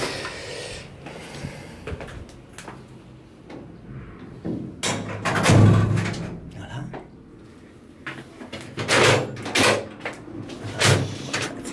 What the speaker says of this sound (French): Bien fermer la porte